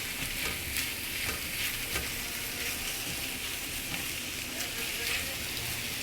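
Ground meat frying in a hot pan on high heat for tacos gives a steady, close, dense sizzle, with soft scraping from stirring throughout.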